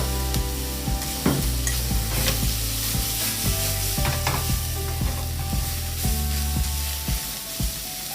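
Bean sprouts fry and are stirred in a hot pan for miso ramen, giving a steady close sizzle with frequent scraping and knocking stirring strokes throughout.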